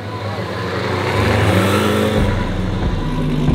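A loud car engine revs hard, its deep roar building and shifting pitch over a few seconds, close by and with no voices.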